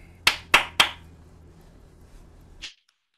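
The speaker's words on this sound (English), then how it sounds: "Three claps for Andrea." A small group gives three sharp, evenly spaced bursts of applause at a community workshop, each clap burst distinct and close, followed by a faint quieter clap near the end before silence.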